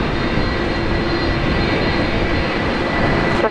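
An Airbus A330-200 jet rolls for takeoff at Brisbane Airport, giving a loud, continuous engine roar with a steady broadband rush and a faint whine. It holds constant and close throughout, with no voices.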